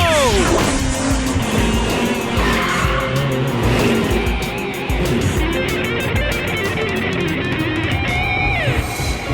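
Cartoon race cars roar along continuously with loud, sustained tire squeals and skidding, engines whining and sweeping past in a busy animated race.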